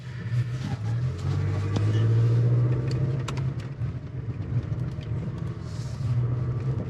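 Midsize pickup truck driving off-road in four-wheel drive over grass, mud and gravel, a loud low engine rumble with bumps and rattles as it rolls along steadily.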